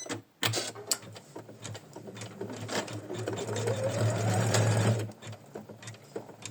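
Sewing machine stitching an autumn leaf onto fabric, a close whirring run that builds and holds steady for several seconds before stopping abruptly, with no voices.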